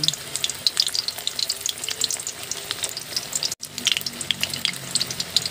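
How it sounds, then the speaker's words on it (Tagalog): Eggplant fries in a pan of hot oil with a dense, crackling sizzle that pops and spatters close up, steady throughout with a brief dropout partway. "Ayan, mag-prito muna tayo ng ating talong."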